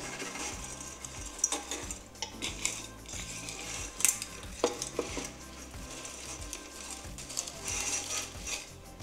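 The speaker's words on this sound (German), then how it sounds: "Die Spaghetti brate ich auch kurz an, dass die so Aromen von dem Olivenöl annehmen" Spaghetti frying briefly in olive oil in a single pot for aglio e olio, with a soft sizzle under repeated scraping and clattering of a utensil against the pot, close by and without speech.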